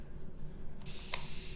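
A single short spritz from a spray bottle misting water onto clay paint, a brief soft hiss after quiet room tone.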